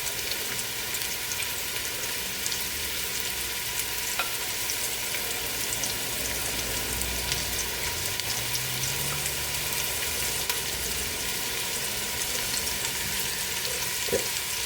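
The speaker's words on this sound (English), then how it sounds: "And while it's trying to brown, it's not gonna move." Beef pieces browning in a hot pan give a loud, continuous sizzle and crackle, steady from start to end with no talking.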